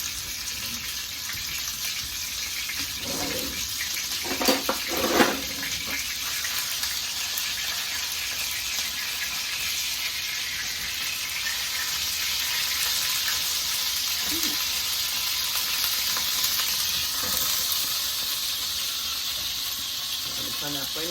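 Ground turkey frying in hot oil in a pan for lasagna, a loud continuous sizzle with brief clattering stirs near the start, and a voice talking in places.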